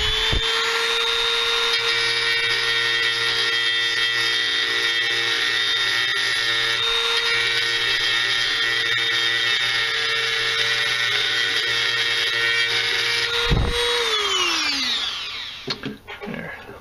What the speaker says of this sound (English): I'm going to grind a little groove on that crack